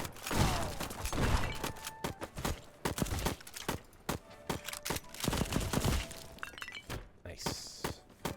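A video game turret fires at an enemy near a pirate ship, giving a rapid series of sharp, crackling impacts and shots over several seconds, while someone talks excitedly over them.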